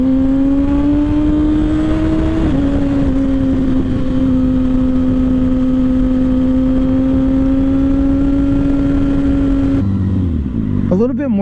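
A Kawasaki Ninja ZX6R 600cc sport bike engine holds a loud, steady high rev for about ten seconds, pitch climbing slightly before settling, then cuts off abruptly into a brief sputter.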